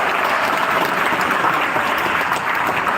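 A crowd applauds after a saree ramp walk show at the Marvellous Marghazhi event, loud continuous clapping that holds steady from start to finish without speech over it.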